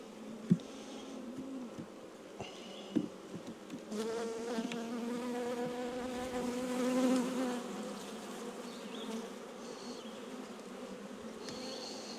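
Honeybees buzz steadily around an open hive during a colony inspection, a soft, close drone with a few individual bees whining louder as they pass nearby, plus occasional light taps from frames.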